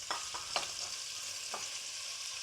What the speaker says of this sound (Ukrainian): Як тільки почало в мене підсмажуватись і витоплюється, тобто стало прозоре, я додаю м'яско і вже разом підсмажую